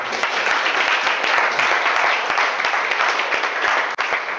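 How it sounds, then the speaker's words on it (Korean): An audience at a university information seminar gives steady, loud, close applause that fills the whole stretch without pause. "기분 좋으시면 뜨거운 박수로 한번."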